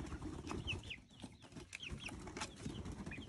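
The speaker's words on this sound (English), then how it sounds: "Is that somebody trying to crow?" A young chicken attempts a crow, with short strained squeaky calls rising among clucking hens and scattered bird chatter in a backyard chicken pen.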